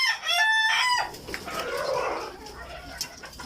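Egyptian Fayoumi chickens in a coop: a rooster crows loudly and close at the start, then hens cluck and chatter in a steady, busy flock.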